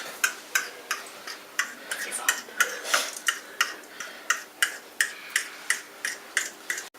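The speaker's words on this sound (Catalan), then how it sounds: "Ara hem de batre el vermell dels ous." Egg yolks whisked in a bowl, a brisk regular ticking of the whisk striking the bowl, about three strokes per second, close and clear with no talk.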